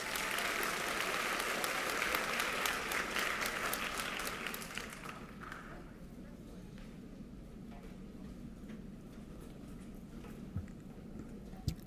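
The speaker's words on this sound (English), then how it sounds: "Give her a round of applause, please." An audience at a 2022 Colin Powell Middle School eighth-grade graduation claps loudly for about five seconds, then the clapping dies into a softer hall murmur with scattered claps and a few faint voices.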